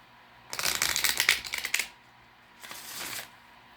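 Oracle cards riffled in a quick shuffle close by, a dense burst of papery flutters, followed by a shorter, softer second shuffle.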